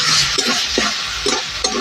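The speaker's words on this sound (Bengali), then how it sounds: "তো টমেটোটা দিয়ে দিলাম, চাটনি করবো টমেটো।" Chopped tomatoes for a chutney, seasoned with turmeric and salt, sizzle loudly in a pan as a spoon scrapes and stirs in a regular rhythm roughly every half second.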